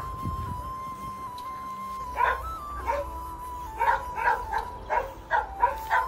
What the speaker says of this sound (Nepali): भुकेको छ त कुकुर त